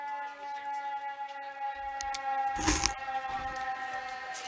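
A sustained, wailing siren tone holds steady at a distance after a double play at a high school 16-inch softball championship game, with a brief burst of crowd noise or rumble breaking in midway.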